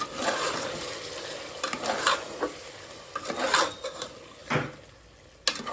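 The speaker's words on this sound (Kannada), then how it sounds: "ಸೊ ಪೇಸ್ಟ್ ಹಾಕ್ಕೊಂಡು ಸ್ವಲ್ಪ ಮಿಕ್ಸ್ ಮಾಡ್ಕೋಬೇಕು." Green paste being stirred into chicken biryani in a pan, a spoon scraping and rasping in irregular strokes with a light sizzle underneath, close and fairly quiet.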